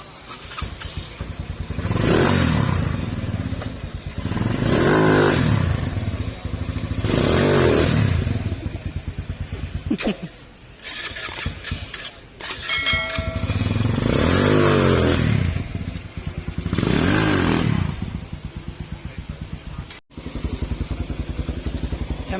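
A Euro RKS150 motorcycle with a freshly replaced clutch lining, its engine revving up and dropping back in repeated loud surges, close by, with mechanical clatter between the revs and no talk.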